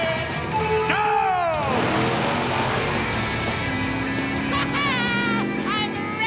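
Cartoon monster truck engines rev at the start of a race, with a loud rising and falling vroom, a whoosh, and continuous engine noise, while excited cartoon voices shout over it.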